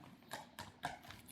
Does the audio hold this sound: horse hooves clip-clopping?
yes